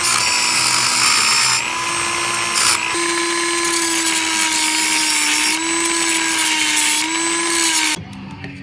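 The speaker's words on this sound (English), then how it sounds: "We're going to try to grind that off." A power tool grinds steadily at pressed-in door hinge pins on a rebuilt Chevelle GM door hinge, a continuous close, loud whine with slight pitch dips, cutting off near the end.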